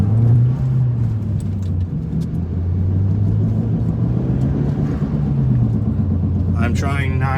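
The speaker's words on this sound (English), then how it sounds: "Boost sounds nice." An Audi A4 B5 turbo engine drones steadily while driving, a loud, low rumbling whose pitch rises and falls as boost builds, with a person talking over it.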